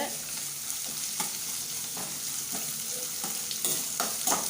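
Green chilies, ginger and curry leaves sautéing in a pan: constant crackling sizzle with regular scrapes of a spatula about every half second, close and moderately quiet.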